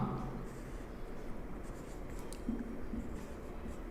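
A pen or chalk writing an example by hand during a Hindi grammar lesson, faint scratchy strokes over a steady background hum, with a little speech in the room.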